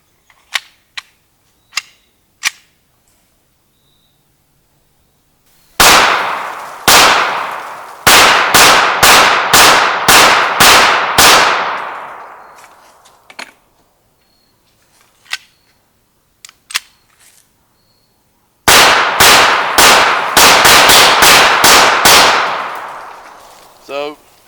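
Shots from a Hi-Point .45 pistol firing 230 grain lead ball rounds ring out at an outdoor range in two loud, rapid strings of sharp cracks, with a few fainter clicks and pops beforehand.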